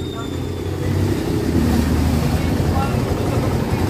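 A 2023 Kawasaki Barako 2 motorcycle idles after an engine overhaul, a steady low rumbling drone that swells slightly after the first second, close up with some wind buffeting.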